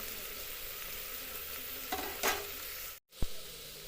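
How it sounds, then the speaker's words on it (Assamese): Chopped onions fry in oil inside a cooker with a steady, close sizzle, a couple of louder bursts from stirring, then a sudden brief drop out before a sharp knock as the sizzle resumes. "এতিয়া মই যিখিনি পিঁয়াজ কাটি থৈছিলোঁ সেইখিনি এতিয়া ইয়াতে ভাজিম"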